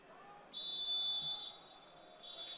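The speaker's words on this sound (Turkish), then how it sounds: "Ve hakem maçın son düdüğünü çalıyor." A referee's whistle sounds at a football match between Orduspor 1967 and Ağrı 1970 Spor, with two shrill, fairly distant blasts over faint crowd and commentary.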